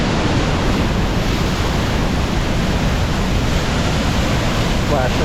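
Wapama Falls in Yosemite's Hetch Hetchy pours with a dense, roaring rush of water heard up close, steady and broadband throughout, with wind buffeting mixed in.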